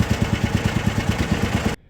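A Baja buggy engine idles steadily at about 1,070 RPM, a close, loud, even pulsing thrum that cuts off abruptly near the end.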